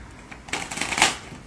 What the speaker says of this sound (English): Shuffle, as we said. Like the boxing shuffle.